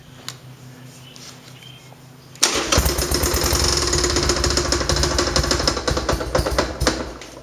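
A motorcycle fitted with an 883 head gasket even though it is not an 883 starts abruptly after a quiet lead-in, then runs loud and close with a rough, rapid, irregular banging throughout.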